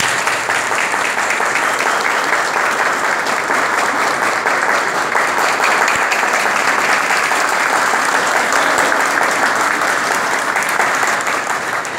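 A large crowd at a political event gives a loud, sustained round of applause for Licenciado Cesarín Tabar, dense clapping continuing steadily without pause.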